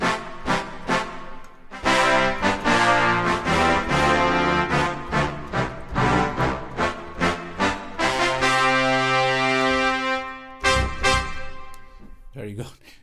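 Reverb-soaked synthesized brass from Cubasis on iPad plays a sequence of punchy chord stabs and held notes, bright and loud, with a long sustained chord near the end.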